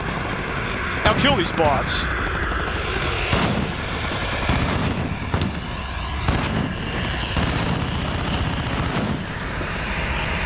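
Gunfire and jet engine roar from a VTOL jet attack in Call of Duty: Modern Warfare, with rapid bursts and sustained loud noise under constant talk from a player.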